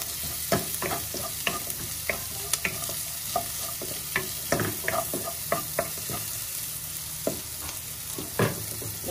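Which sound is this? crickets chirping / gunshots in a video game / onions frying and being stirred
onions frying and being stirred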